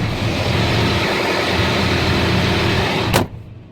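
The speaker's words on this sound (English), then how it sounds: "I can hear the fan, the blower, the air coming through the vents" Steady broadband whoosh of air blowing through the cab vents of a Challenger 1050 tractor while driving, engine inaudible, then cuts off abruptly near the end, leaving near silence.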